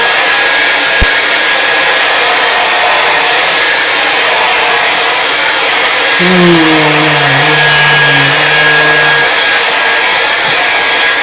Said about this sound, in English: Gonna use the dryer,